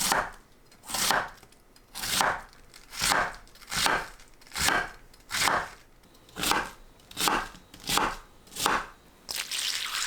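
Knife slicing red cabbage into thin strips on a cutting board, about ten steady, evenly spaced crisp crunching cuts up close, with no voices.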